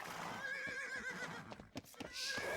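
A horse neighs in a strategy video game, a wavering whinny at the start followed by scattered hoof clops and a few sharp clicks, moderately loud amid game background sound.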